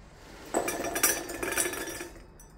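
Frozen hot peppers tumble into a glass jar, a brief cluster of light clinks and rattles against the glass, close by and fairly soft, with no talking.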